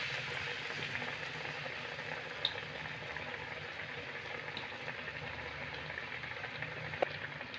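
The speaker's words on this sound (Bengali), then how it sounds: "তেলটা গরম হয়ে গেছে এবার আমি ব্রেডটাকে ভেজে নেব" Bread pakora fries in hot oil over a medium flame with a soft, steady bubbling sizzle. A couple of faint pops stand out above it.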